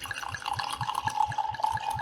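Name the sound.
wine poured into a Cooper's Hawk wine glass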